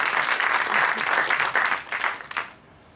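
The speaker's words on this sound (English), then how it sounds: "So please give them a round of applause" An audience at an academic media-arts event applauds with dense, even clapping that holds for a couple of seconds, then thins out and fades to near quiet.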